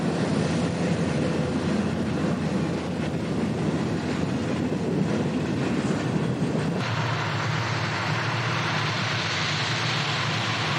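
A BNSF coal train in the Powder River Basin rolls past, led by six-motor, high-horsepower GE or GM locomotives, a loud, steady roar and rumble of wheels and cars that shifts in tone partway through, with no talking.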